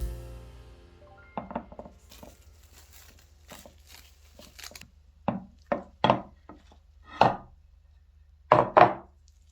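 Knife strokes cut through soft sweet potato bread on a board, a scattering of sharp knocks that come faster and heavier toward the end, no voices.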